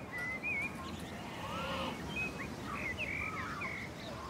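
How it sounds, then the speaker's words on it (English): Several birds chirp and sing in a park, their short bright calls scattered and fairly faint over a steady outdoor background hum. "The birds are singing."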